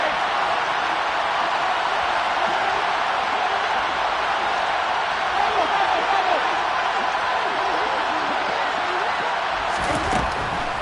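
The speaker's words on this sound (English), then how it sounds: "The crowd getting into it as we come up on a big third down." A large football stadium crowd at an NFL Cardinals versus Saints game roars in a dense, continuous wash of noise before a big third down, steady and loud throughout.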